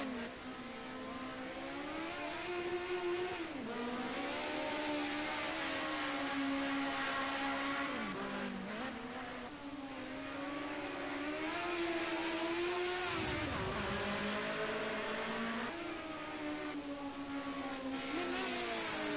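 Ford Sierra Group A touring race cars racing at Bathurst, a loud, sustained engine drone climbing through the gears with brief dips at the shifts, held steady and close throughout.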